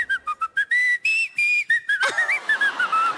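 A person whistles a melody in clear, pure tones, a run of short separate notes followed by longer held and sliding ones, close and loud with no talking, in a talent-show audition setting.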